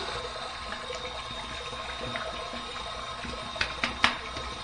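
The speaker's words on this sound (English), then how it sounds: "So here's my warm water rinse." Warm water runs steadily from a tap to rinse a Simpson Trafalgar T2 synthetic shaving brush, a soft continuous hiss with a few small splashes near the end.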